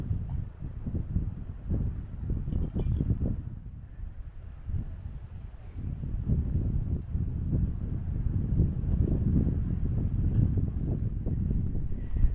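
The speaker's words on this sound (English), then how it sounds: "it's a bit windy up here, but it's a good view" Steady gusting wind on a coastal hilltop buffets the microphone with low rumbling bursts, continuous and fairly loud throughout, with no voices.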